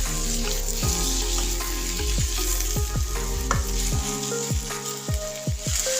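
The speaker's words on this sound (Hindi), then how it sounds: "इन सबको हल्की सी पहले फ्राई कर ले रही हूँ।" Paneer pieces fry lightly in hot oil in a pan, a steady close sizzle with crackling pops throughout and repeated scraping stirs over it, no voices.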